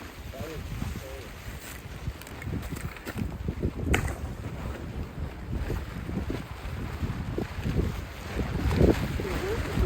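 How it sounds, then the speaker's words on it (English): Cold, gusty wind at a winter hot-tent campsite buffets the microphone in uneven surges, a continuous roar that swells and eases over about ten seconds, with faint rustling underneath. "Gusty wind too. It's not all the time, it's gusting."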